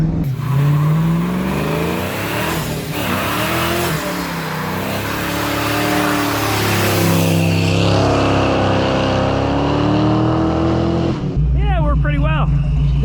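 A supercharged Ford Mustang engine roars at high revs for a long stretch during a burnout, tires spinning with a sustained howl, then the pitch shifts sharply near the end as it shifts from third into fourth gear.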